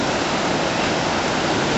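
Ocean waves at a beach during a day outing, a loud, steady broadband wash of surf filling the whole moment with no talk.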